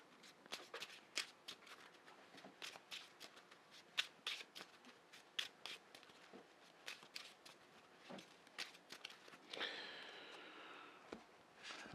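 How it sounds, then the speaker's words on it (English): A deck of game cards for a Marvel Champions tabletop card game is shuffled by hand, giving a long run of quick, crisp riffling flicks and snaps at close range, ending in a brief denser whir near the end. "It's going to get shuffled back into our deck."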